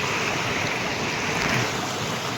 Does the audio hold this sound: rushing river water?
yes